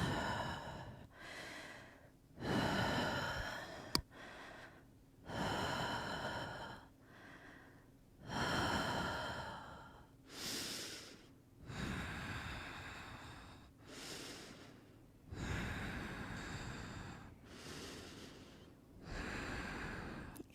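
Slow, deep breaths in and out during a yoga forward fold, heard up close as a steady rhythm of long inhales and exhales, roughly ten breath sounds with brief pauses between them and no talking.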